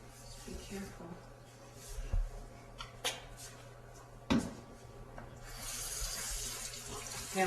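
A kitchen tap runs water into a sink with quiet splashing and a few knocks and clunks from cupboards or dishes, while people talk now and then nearby.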